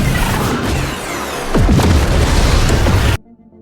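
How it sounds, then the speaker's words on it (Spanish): An enemy spaceship explodes in a science-fiction film battle, a loud sustained roaring blast with rumbling bursts that swell midway, then cuts off abruptly. "La nave enemiga explota mientras Korra y Gunnar escapan para ejecutar su propio plan."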